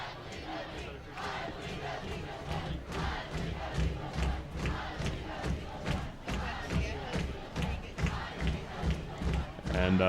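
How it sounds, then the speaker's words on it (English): At a high school football game, the Mustangs crowd chants a rhythmic call-and-response cheer, with loud repeated beats and stomps from many voices across the stands. "Mustangs doing their I believe that we will win cheer"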